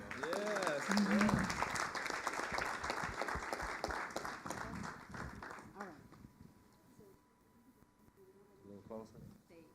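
A crowd applauds at a city council meeting, with a dense wash of clapping and voices that fades away after several seconds, leaving quiet room sound and a few scattered sounds.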